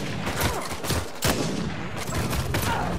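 Rifle shots crack out during an Uncharted 4 co-op firefight, several loud sharp reports and rattling bursts close by, with faint voices underneath.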